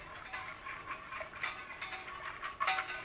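A whiskey bourbon cream sauce being stirred in a pot just taken off the flame, with a spoon scraping and tapping in irregular light strokes, close and fairly quiet.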